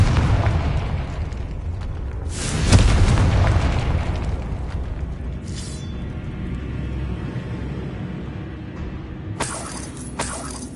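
A Confringo blasting spell explodes in Hogwarts Legacy with a loud shattering boom, then a long rumbling decay, and another sharp crackling burst comes near the end.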